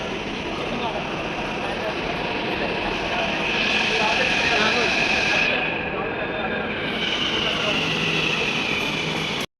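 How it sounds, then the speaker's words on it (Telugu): Hyderabad metro train carrying passengers toward Uppal stadium, a steady broadband rumble and hiss of the carriage in motion, swelling slightly midway, with people talking over the running noise. "మెట్రో"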